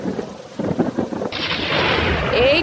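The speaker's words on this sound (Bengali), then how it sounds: "ঝড় বৃষ্টি শুরু হয়ে গেল" Thunderstorm with rain: a low thunder rumble rolls in, then a steady hiss of rainfall grows louder and continues to the end, with no voices.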